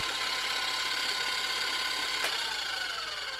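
A kneading machine in Cooking Simulator turns a paddle through cake dough, giving a steady whirring mechanical hum with a faint ratcheting texture and one brief click, alone without talk.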